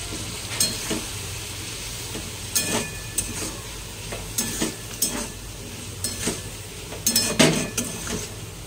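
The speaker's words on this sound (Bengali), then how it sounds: "মশলাটা কষিয়ে নেব" Ginger, cumin powder and chili powder sizzling in a pan over fried pumpkin and potato, with a steady low hiss broken by repeated sharp scrapes and clinks of a spatula stirring against the metal.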